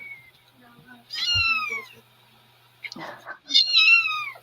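A young kitten gives two clear high mews about two seconds apart, close and fairly loud, with quiet room noise between them.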